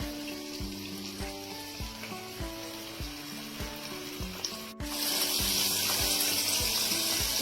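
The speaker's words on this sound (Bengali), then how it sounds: "আর একটু ভেজে নিই" Sweet corn fries in a pan with a steady, loud sizzle that grows brighter and fuller after a sudden jump midway, over a repeating low tonal hum with regular pulses; no one speaks.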